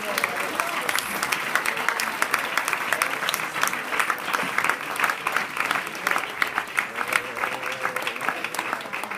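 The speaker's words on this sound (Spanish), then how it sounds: "Le damos un aplauso al Señor Jesucristo." A large church congregation applauds during a missionary sermon service, sustained and energetic clapping with sharp individual claps standing out from the crowd, and a few voices mixed in.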